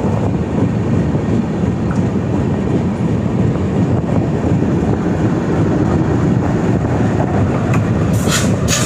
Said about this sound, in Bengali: প্রায় 45 মিনিট আগে আমাদের ট্রেন ঢুকছে